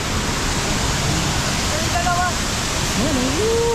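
Steady, loud roar of the Hulugan Falls waterfall fills the whole stretch, constant and close, with brief faint voices rising over it.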